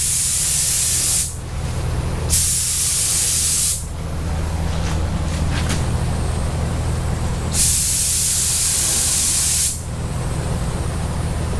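A paint spray gun coating Dodge Viper ACR fenders, hissing loudly in long bursts separated by short pauses, over a steady low booth rumble.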